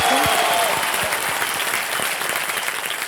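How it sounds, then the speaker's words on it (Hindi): Loud, sustained applause from a studio audience on the KBC Season 14 game show set, greeting footballer Sunil Chhetri, with faint voices and a brief tonal sweep near the start. "जोरदार तालियां सुनील छेत्री।"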